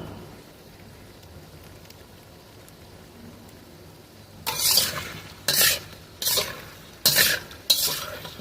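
Chicken pieces frying in a pan with ginger-garlic paste as the spice mix is stirred in over medium-high heat. After a quiet stretch come five sharp scraping stirs, each a loud, close burst with short pauses between.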